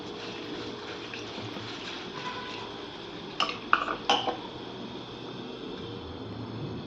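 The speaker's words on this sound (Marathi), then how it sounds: "आता हे पोहे मी व्यवस्थित धुवून घेतलेले आहेत स्वच्छ पाण्याने" Poha being rinsed with clean water in a bowl, soft sloshing and a few sharp clinks of dishware around the middle, over steady low kitchen background noise.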